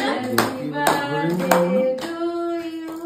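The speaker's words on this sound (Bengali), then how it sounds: "হাততালি হাততালি হাততালি হাততালি হাততালি হাততালি দাও" Scattered hand claps at a two-year-old's birthday party at home, several sharp separate claps spaced out under a melodic tune and faint voices.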